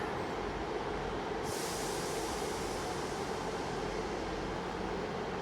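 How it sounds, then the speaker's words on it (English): Cross-country passenger service pulling into Exeter St David's station on a Sunday afternoon: a steady, fairly distant rumble of train and rolling wheels, continuous with no voices. "Finally should see a cross-country service coming in now going to Plymouth."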